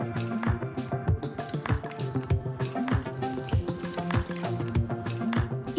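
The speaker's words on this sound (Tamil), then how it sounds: "அரிசி அளந்த அதே கப்பில் 2 கப் தண்ணி ஊற்றி நல்லா மிக்ஸ் பண்ணுங்க." Two cups of water poured from a cup into a rice mixture in a cooking pot, giving close, repeated splashing and gurgling pulses with bright liquid ringing, and no voices over it.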